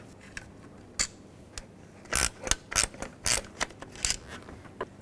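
A ratchet wrench backs out 10 mm bolts holding the mass airflow sensor on a 1997-2003 Ford F-150, giving sharp clicking bursts, scattered at first and then dense in the middle, close and alone.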